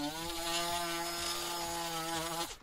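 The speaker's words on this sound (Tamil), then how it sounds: "ஓகே, நம்ம மார்க் பண்ண இடத்துல வந்து ட்ரில் பண்ணியாச்சு." A power drill bores into a wooden base for a homemade electric room heater, a close, steady whine with a grinding texture that holds for a couple of seconds and then cuts off.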